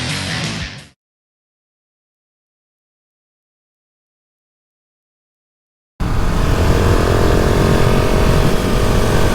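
A 2020 KTM 690 Enduro R motorcycle engine drones while riding, a loud steady roar with wind rush that starts abruptly after a long silence, following a brief burst of sound at the start.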